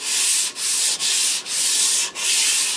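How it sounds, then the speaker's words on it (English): Steady hand sanding on parawood desk parts, long rasping strokes with brief pauses between them, close and loud. "we're doing the sanding so that the wood will take the stain in a more even fashion"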